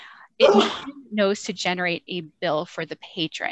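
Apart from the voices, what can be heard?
sneeze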